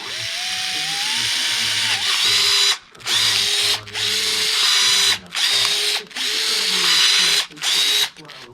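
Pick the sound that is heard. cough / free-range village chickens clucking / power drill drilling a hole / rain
power drill drilling a hole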